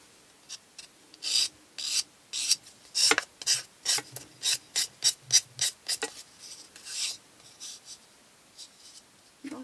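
Hand filing along the edge of a wooden curiosity cabinet, a steady run of short rasping strokes, fairly close and crisp, with a brief pause before a few final passes; no talking.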